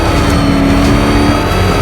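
The Batmobile's engine in the video game Batman Arkham Knight, a loud, continuous revving roar that holds steady throughout.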